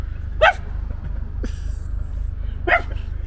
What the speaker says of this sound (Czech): Zaštěkej.